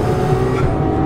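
A Ferrari 812 Superfast V12 engine revs hard and continuously at high RPM while driving, a loud, dense roar with a steady whine and no breaks.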